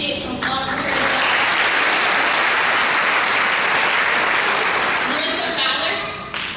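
Sustained applause from a graduation audience honoring a nursing faculty member at the Wenatchee Valley College RN nursing ceremony, steady and dense for about five seconds before thinning out.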